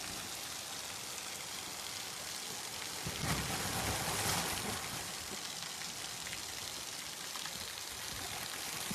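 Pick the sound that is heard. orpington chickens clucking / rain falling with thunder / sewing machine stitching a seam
rain falling with thunder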